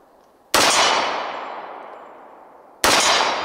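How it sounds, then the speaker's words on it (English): Two loud gunshots from a Sbardella Arms Full Stroke Commander 1911 pistol ring out at an outdoor range, each sharp blast trailing into a long decaying ring as steel targets 21 yards away are struck, about two seconds apart. "You can hear it banging the steel 21 yards away."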